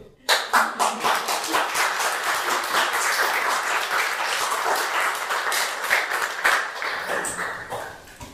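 Audience applause at the close of a talk on intercultural work with migrants, a dense burst of many hands clapping that starts abruptly, holds steady at full strength for several seconds and then tapers slightly at the end.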